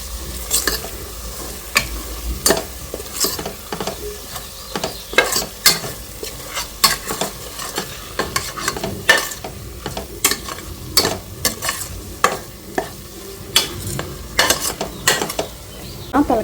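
A spoon repeatedly scraping and stirring a chili powder mixture in a hot pan for goat head curry, irregular clinks over a constant low sizzle, close and clear without talk.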